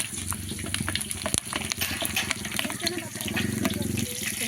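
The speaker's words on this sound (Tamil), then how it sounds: "தண்ணி வந்துருச்சு." Tap water gushing and splashing steadily into a vessel in a home kitchen during cooking, a continuous rushing flow that carries on under background noise and some faint voices.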